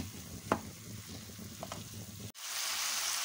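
Chicken mince sizzles in a pan with browned onion and garlic. Soft stirring scrapes come first, then a sudden louder, bright hiss of frying takes over.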